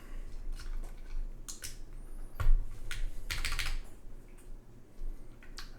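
Close, crisp clacking of keys on a newly built OC-62 mechanical keyboard with keycaps, typed in an irregular rhythm with a few heavier thocks.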